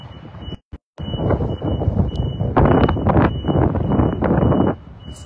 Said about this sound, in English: It's chilly here, breezy.